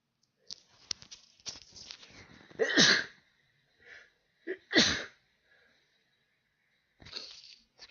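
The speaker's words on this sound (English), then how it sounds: "Excuse me for my sneezes and sniffles." Close, sharp sneezes, two strong bursts among softer sniffs and breathy snorts, with quiet pauses between them.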